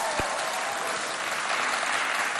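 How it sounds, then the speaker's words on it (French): A school quiz contest audience claps in a dense, sustained burst of applause that fills the room at a constant loud level throughout, with no pause or break. "Mais ils ont applaudi quand même."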